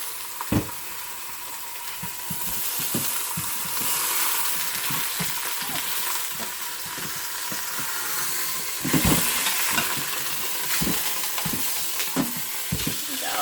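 A roast sizzles and fries steadily in a hot pan while being flipped, a continuous hiss broken by scattered clunks and scrapes of the meat and utensil against the pan.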